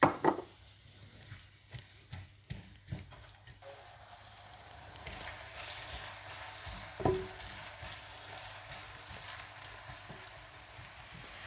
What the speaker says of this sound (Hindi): ऑयल गर्म करें और इसमें प्याज डालकर हल्के से ब्राउन कर लें